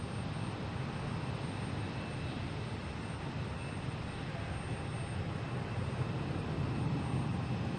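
An American Airlines jet airliner at Boston Logan Airport, heard as a steady, broad roar of jet engines that holds at a moderate distance without a break.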